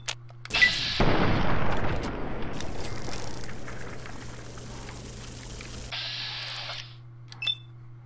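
One gunshot in the video game Fallout 3 cracks out loudly and then rolls into a long booming echo that slowly fades, followed by a few faint metallic clicks and a small thud.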